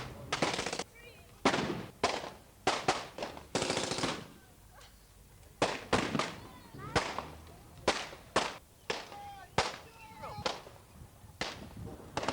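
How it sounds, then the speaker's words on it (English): Automatic gunfire crackles through a mock military attack in loud, sharp bursts and single cracks, some near and some farther off, spaced irregularly with short gaps and faint voices between them. "covering each other going forward with automatic fire."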